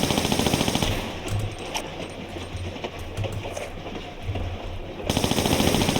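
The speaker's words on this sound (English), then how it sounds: "This is literally the maximum range from which Lara can fire" Rapid gunfire from Lara in the Tomb Raider IV video game on a desert railroad level, with repeated clattering shots running in a steady rhythm over a dense rumbling background that drops away in the middle.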